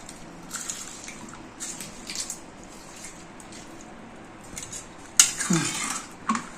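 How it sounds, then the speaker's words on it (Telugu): Drumstick pickle is mixed with oil in a metal vessel, heard as quiet scraping and clinking of a spoon against the pot in uneven bursts, ending with a louder clatter. "అంతా కలిపి నూనె వేసేస్తానండి. గుమ్మరిచ్చి బాగా అంతా కలిపేదండి."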